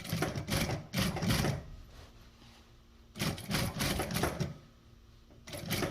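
Sewing machine stitching a coil zipper, running in several short bursts of rapid mechanical stitching separated by pauses, close and fairly loud.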